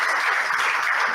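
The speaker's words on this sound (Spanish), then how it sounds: "Muchas gracias por la presentación y ahí va el aplauso" Brief burst of steady applause following a clinical case presentation at an Argentine hospital session, a dense wash of clapping with no speech over it.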